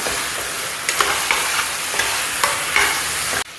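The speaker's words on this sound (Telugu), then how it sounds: "ఇప్పుడు 3 టమాటాలు కట్ చేసి వేసుకుంటున్నాను. ఇవి కూడా బాగా కలిపేసుకోవాలి." Three chopped tomatoes stirred in a hot pan for chicken pepper rasam, a constant sizzle punctuated by about six rhythmic scraping strokes of a spoon, close and fairly loud, ending abruptly, no talking.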